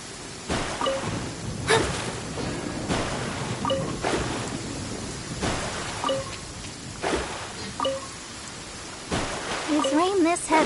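Heavy rain in Genshin Impact, a steady hiss of downpour running the whole time beneath characters talking, with occasional louder gusts and bursts.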